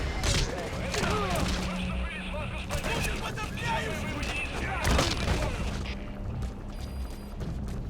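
Mortar fire explosions in the war game Metal Gear Solid V: The Phantom Pain, a dense run of booms and crashes with scattered gunfire, mixed with game voices.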